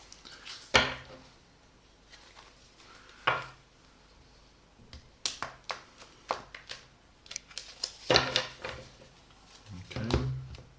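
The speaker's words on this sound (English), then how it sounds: "I'm going to shuffle the cards." A Thoth tarot card deck is shuffled by hand, with several separate bursts of riffling and card slaps spread through the passage and quiet gaps between them.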